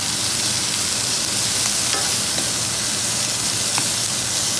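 Garlic frying hard in oil in a paella pan, a dense continuous sizzle with faint scrapes as it is stirred, loud and close with no talking.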